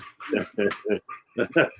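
A German Shepherd gives a quick run of short whimpers and yips, close and fairly loud, in bursts separated by brief pauses, with no clear talking.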